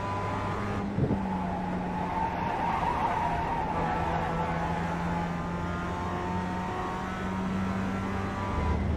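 Tires skid and squeal as a Mazda MX5 spins out in an iRacing sim race at Laguna Seca, a sustained loud screech over steady engine drone lasting several seconds, with no talk.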